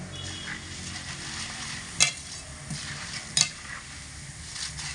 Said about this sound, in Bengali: চিড়ে দেওয়ার সাথে সাথে কিন্তু খুব সুন্দরভাবে ফুলে ভাজা হয়ে গেছে